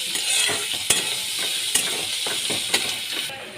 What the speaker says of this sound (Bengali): সবজিগুলো আমি ভেজে নিচ্ছি